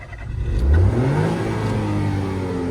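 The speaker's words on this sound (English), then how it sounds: "Let's give it some revs." A loading shovel's diesel engine revs up from idle, the pitch climbing quickly then settling into a sustained high drone, loud and close with no voices.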